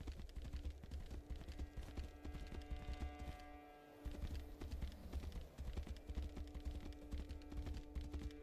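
Horse hooves clip-clop steadily in the fantasy game Tainted Grail, a quiet, rapid patter of hoofbeats over game ambience and music, briefly dropping out midway before resuming.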